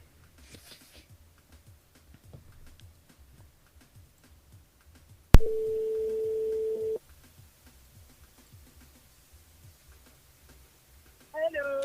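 A radio station switchboard places a telephone call: a sharp click followed by a steady line tone lasting under two seconds, then near-silence with faint background ticks before a voice comes in at the end.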